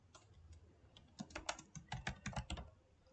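Fingers tap a computer keyboard while writing Python code, a quiet, irregular run of clicky keystrokes that grows denser midway, with no talking.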